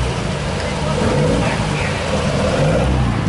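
A car from the original Fast & Furious movie runs with its engine idling and rumbling steadily up close, low throaty drone continuing throughout while people talk over it.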